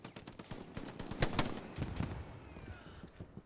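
Gunfire in an 18-versus-18 Hell Let Loose tournament match: scattered sharp shots and short bursts, with a couple of louder cracks near the middle over a low battlefield rumble.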